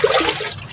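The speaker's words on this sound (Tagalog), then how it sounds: "Papatayin ko na itong water." Running water from an outdoor tap pours with a steady hiss and splash, close and fairly loud, fading slightly as it is turned off.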